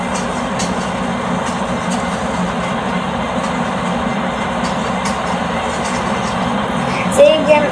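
Simulated train pulling into Chittagong station in a train-driving video game, a steady low rumble of rolling wagons running throughout with a brief brake squeal near the end, under someone talking.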